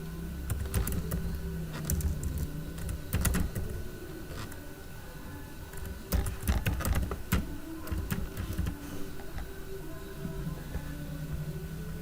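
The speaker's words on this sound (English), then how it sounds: "So I want to type decision tree." Computer keyboard typing in bursts of quick clicks, some clustered and some sparse, over a steady background hum with no talking.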